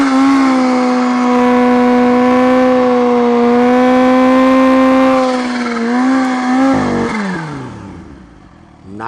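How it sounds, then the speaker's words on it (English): A supercharged 2020 Kawasaki Z H2 streetfighter motorcycle holds a loud, steady high-revving drone during a sport-mode burnout attempt, then the engine note wavers, drops and trails off near the end. "Let's see if she'll do a burnout in sport mode."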